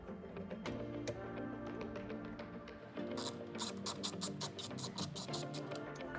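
Ratchet turning out T20 Torx screws on a Ford Mustang GT steering wheel, heard as a close run of quick, evenly spaced clicks that grows sharper and louder partway through, with a faint hum behind and no talking.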